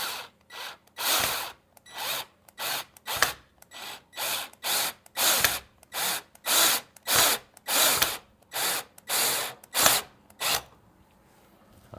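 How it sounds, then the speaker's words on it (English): A power drill whirs in about twenty short bursts, each a few tenths of a second, with brief pauses between them, loud and close, drilling holes in a plant germination station. "That should really make it stay still when I start drilling more holes in it."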